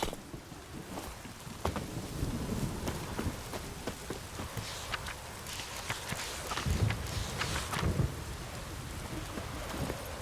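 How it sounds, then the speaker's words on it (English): Rain falls steadily in The Witcher 3: Wild Hunt, a constant wash of patter with faint thunder-like rumbles and soft steps, moderately quiet throughout. "Oh, raining again."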